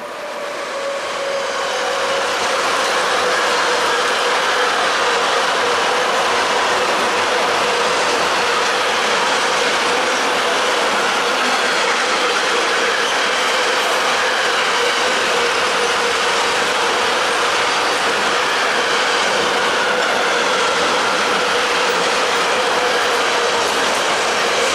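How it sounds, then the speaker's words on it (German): A container freight train rolls through Karlstadt station in Germany, a long, loud, steady rumble of wagons with faint rhythmic clatter from the wheels, heard close and with no talk throughout. "Kranz mit ihrem Containerzug"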